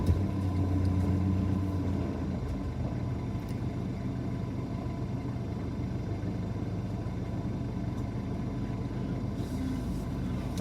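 A car drives along a town street in Blackpool, heard from inside as a steady low engine and road rumble that stays even throughout, with a slightly louder start.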